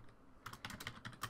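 Rapid keystrokes on a computer keyboard in clustered bursts, close and clear, with no talking.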